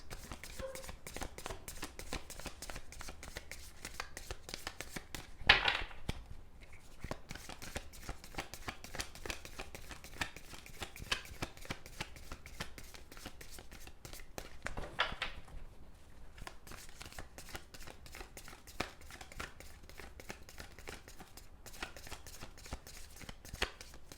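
Stiff tarot cards are shuffled by hand in a fast, continuous riffle of soft taps and flicks for over twenty seconds, close up and fairly quiet, with two louder swishes partway through.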